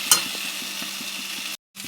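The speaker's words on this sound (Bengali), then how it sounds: "ভাজা ভাজা করে নেব।" Rui fish head and puin shak chorchori frying in a pan, with a steady close sizzle and a regular series of spatula scrapes and stirs, broken by a brief silence near the end.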